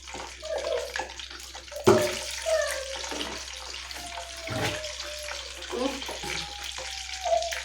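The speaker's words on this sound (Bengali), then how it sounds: "দিয়ে বেসনটাকে আমি ভালো করে ফাটিয়ে মাখিয়ে নেব" Gram flour batter with carom seeds, turmeric and chili powder is beaten by hand in a bowl for bread pakora, giving wet, sloshing, squelchy stirring under a voice.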